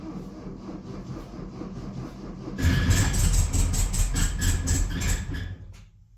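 A classic VW Beetle engine, long parked, cranks with a rhythmic chugging before catching at once into a loud, rough, uneven running clatter that carries for a few seconds and then cuts off abruptly.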